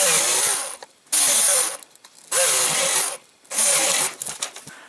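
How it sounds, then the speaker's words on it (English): A jigsaw cutting out a template for a Cessna switch panel, running in three loud bursts of buzzing, rasping cutting separated by short pauses, close up with no talk. "then use the jigsaw to cut it out"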